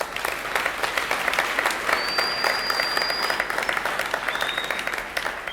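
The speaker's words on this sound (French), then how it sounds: "Applaudissez pour vous-même." Sustained applause from a festival audience at the Ngoma Ma Gloire festival, a dense steady wash of many hands clapping throughout, with a couple of faint whistles cutting through.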